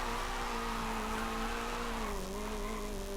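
A Nissan 240SX drift build in Forza Horizon 5 slides with a sustained, steady tire squeal over a constant engine drone. The pitch dips slightly late in the slide.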